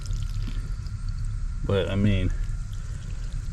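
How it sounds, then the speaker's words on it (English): A solar-powered pump pushes a strong stream of water into a DIY stock tank garden pond, giving a continuous close pouring and splashing. A person speaks briefly over it partway through. "Got water flow, actually strong water flow."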